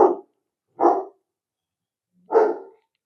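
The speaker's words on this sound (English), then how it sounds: "You are going to hear some barking, which is totally normal." A dog in an animal shelter gives three sharp, separate barks, the first two close together and the third after a short pause, with silence in between.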